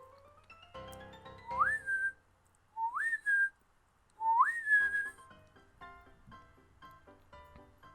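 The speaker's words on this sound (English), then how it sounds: "He paused, and then whistled a series of 3 long whistles." Three long rising human whistles, each a quick upward sweep settling into a held tone, separated by short pauses, with faint background clatter.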